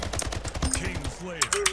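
Plasma rifle fire in the shooter Slipgate, a rapid stream of sharp electronic pulses over bright game effects, with a few tonal swoops near the end.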